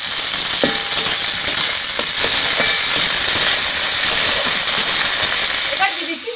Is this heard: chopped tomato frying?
yes